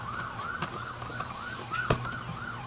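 A police siren wails in a steady repeating rise and fall somewhere in the distance, faint but continuous under low room noise, with a couple of sharp knocks nearby.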